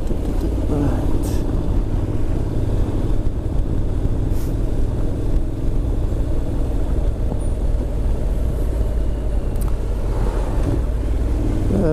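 A Honda NC750X motorcycle out on country lanes gives a continuous low engine and wind rumble throughout, with a rider's voice running over it.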